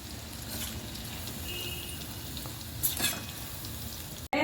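Corn pakode fry in oil over low heat, a dense, even bubbling sizzle up close, then stirring brings a metallic scrape and clink before a sudden cut at the end.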